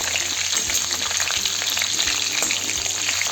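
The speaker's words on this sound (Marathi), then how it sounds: "आता एक छान अशी एक साईडने भाजून द्यायचे" Bitter gourd (karela) pieces pan-frying on one side, a steady close sizzle with small crackles and pops running throughout, no voices.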